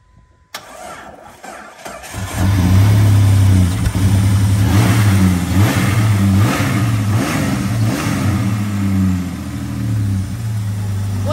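A Jeep Grand Cherokee's 4.0L engine, parked for about two years, cranks briefly and catches, then settles into a loud, close, steady rumbling idle with slight rev swells.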